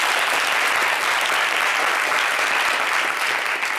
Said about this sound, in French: On va applaudir pour ça déjà.